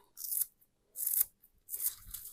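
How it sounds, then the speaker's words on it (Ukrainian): Three short crisp snipping bursts of scissors cutting fresh dill, evenly spaced with brief pauses between, close up and fairly quiet. "Кріп нарізаю ножницями."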